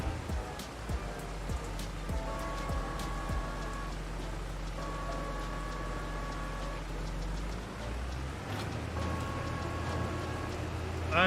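Steady rain hiss in Farming Simulator 22 on a farm map, a continuous broad wash alongside droning farm machinery with engine tones that come and go.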